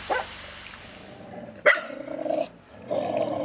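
A dog barks sharply a few times, with rough growly vocal sounds in between, close by and fairly loud.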